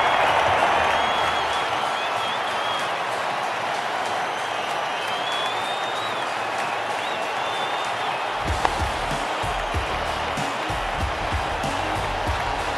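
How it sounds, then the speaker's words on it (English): A stadium crowd roars in the cricket video game WCC3, a steady, dense wash of cheering that holds at one loud level throughout, with a brief low thump partway through. "Crowd's gone mad."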